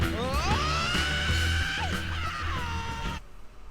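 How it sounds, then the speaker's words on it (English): A high, sustained rock scream, sliding and wavering over loud driving guitar and drums before the music cuts off abruptly. "This scream right here."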